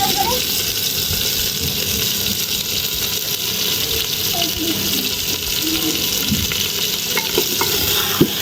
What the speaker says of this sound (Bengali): মাংসটা নেড়ে চেড়ে ঢেকে দিচ্ছি